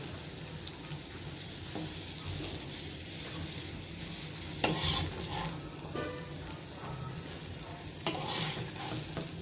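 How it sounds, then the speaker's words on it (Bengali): Steady sizzling of pointed gourd frying in oil, with scraping stirs and a couple of louder clatters from a utensil against the pan. "পটলটা ভালো করে ভাজা হয়ে গেছে, এখন আলুটা ভেজে দিব"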